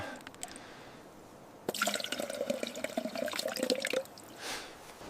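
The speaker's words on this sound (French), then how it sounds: "Transvaser l'eau précieuse dans la bouteille." Precious water is poured into a bottle in a survival setting, a faint trickling and splashing stream lasting about two seconds after a quiet start, with small drips around it.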